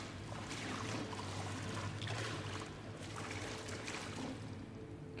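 Flowing water in Deliver Us The Moon, a faint steady pouring and trickling wash that continues unbroken throughout.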